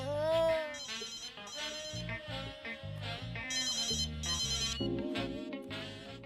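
A mobile phone ringtone plays loudly and alone, a bright synthesized melody of repeating tones over a steady beat.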